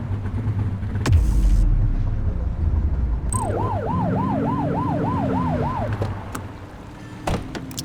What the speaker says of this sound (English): blip the siren to make them pull over.